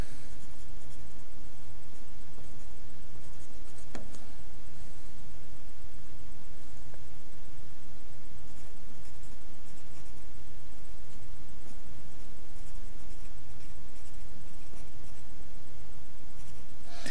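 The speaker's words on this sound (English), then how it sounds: "we write the words over in the right-hand margin, and I'm going to do that now" A pen scratches steadily across paper as words are written into the right-hand margin of a reading fluency exercise, a close, continuous dry rustle with no talking.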